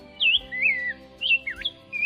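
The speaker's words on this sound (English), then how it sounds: "Fucticus ludovicianus the rose-breasted grosbeak." A rose-breasted grosbeak, a finch-like member of the cardinal family, sings clear, sweet warbled phrases in two short bursts with a brief pause between them, heard close and alone.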